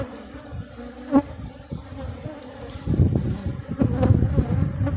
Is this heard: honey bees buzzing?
yes